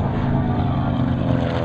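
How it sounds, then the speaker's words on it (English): Vintage propeller aircraft of the Geico Skytypers flying past, a loud steady droning engine roar that holds constant throughout with no talk. "Aircraft number 3 and 4 from the Geico Skytypers."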